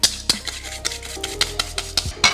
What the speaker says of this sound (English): So now I'm gonna mix my eggs, sugar. I'm gonna whisk it by hand a bit.